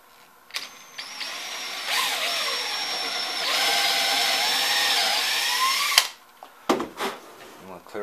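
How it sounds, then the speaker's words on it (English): An electric drill bores holes while a wheeled dolly is being built, two sustained whining runs that rise and dip in pitch, separated by brief clicks and knocks of handling, close and fairly loud. "now I'm going to go ahead and drill my last two holes"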